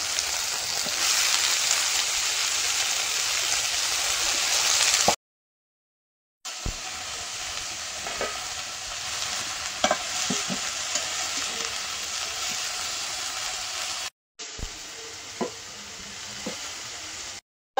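Spiced chickpeas, cabbage and potatoes fry in a pan with a steady, hissing sizzle, broken by brief silent cuts, with occasional clacks of stirring under the hiss, close and loud.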